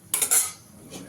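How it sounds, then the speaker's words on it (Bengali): A metal spoon scrapes and clinks against a pan while spice paste is stirred during cooking, with a few quick bright strokes followed by a softer scrape, close and with no talking. "জল দিয়ে দেব, দিয়ে মশলাটাকে ভালো করে কষিয়ে নেব।"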